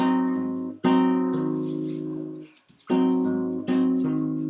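Guitar chords strummed several times, ringing out with a sustained, slightly clashing tone from a lower string left ringing by mistake, separated by brief pauses.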